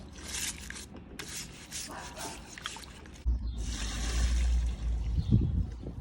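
An Xbox One part is scrubbed with rapid rubbing strokes, then rinsed under running water that trickles and splashes steadily nearby.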